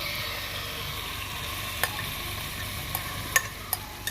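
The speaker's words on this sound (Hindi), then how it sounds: "चिकन हमारा मैरिनेट हो चुका है। अब हम इसको कुक करेंगे।" Marinated chicken tikka cooking in a pan over medium flame gives a continuous, even sizzle with a few sharp utensil clicks toward the end, no voices.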